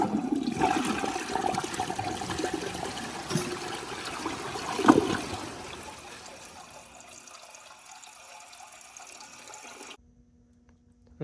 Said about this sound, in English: So I'll just do some normal flushes at some different angles.